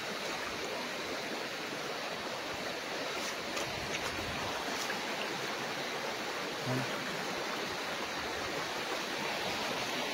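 Clean, cold river water runs steadily beside a farm lot in Real, Quezon, a continuous close broadband rush with no talk over it.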